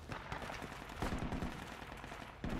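Gunfire in the military shooter Project Reality BF2, with machine-gun bursts rattling fairly faintly. Sharper shots stand out near the middle and at the end of the short stretch.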